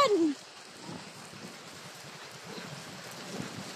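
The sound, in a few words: heavy rain during typhoon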